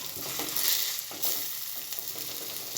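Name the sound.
coriander powder roasting in oil for squid roast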